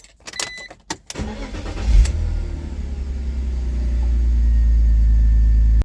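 A 200,000-mile BMW Z4 engine cranks in short bursts, then catches and settles into a loud, steady running rumble that grows fuller and closer, with no talk over it.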